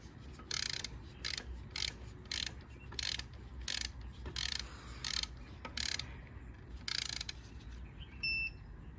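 A ratchet tightens bolts on a Mini Cooper S N18 engine during a timing chain job, torqued to 15 foot-pounds: roughly a dozen short, crisp bursts of rapid clicking in an irregular rhythm, close and clear, with a brief electronic beep at the end.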